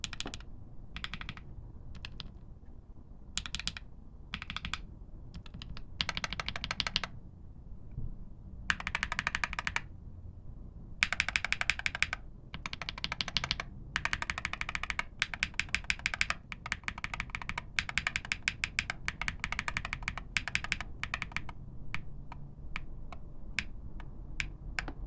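Rapid clacky keystrokes from WS Flux mechanical key switches come in short bursts separated by brief pauses, crisp and close, with no talking.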